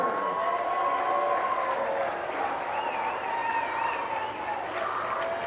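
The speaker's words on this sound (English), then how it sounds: "Please give a big round of applause for all of your 2025 Callahan Award finalists in the men's division." An audience at a college ultimate frisbee awards announcement applauds in a steady, dense wash of clapping that holds throughout, with cheering and whistles rising over it.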